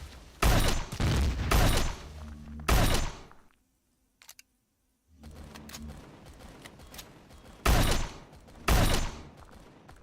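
Guns fire in Empyrion - Galactic Survival in several loud, sharp bursts of rapid shots, separated by a near-silent gap and a stretch of lower rumbling.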